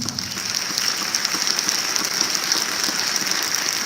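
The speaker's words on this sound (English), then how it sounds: "Round of applause for these students." Audience applause at an academic recognition and scholarship ceremony honoring students, a dense, steady crackle of many hands clapping throughout with no speech over it.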